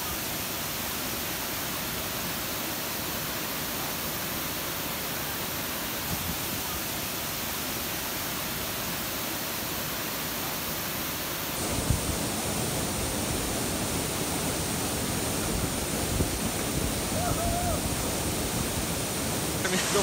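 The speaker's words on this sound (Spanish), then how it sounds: "es una caída de alrededor de unos 40 metros, entonces el agua realmente te pega fuerte" A powerful waterfall about 40 metres high roars steadily in a dense, continuous rush, growing louder and closer partway through as the falling water is approached.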